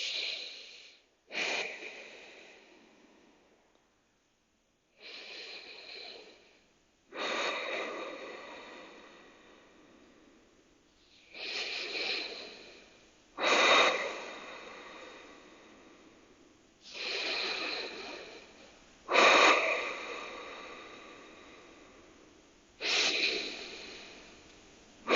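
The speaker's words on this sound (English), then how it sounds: "Take 5 full cycles of breath here." Slow, deep yoga breaths drawn in and pushed out through the nose in a steady rhythm, several full cycles heard close up, each long airy exhale swelling and fading before a quiet pause.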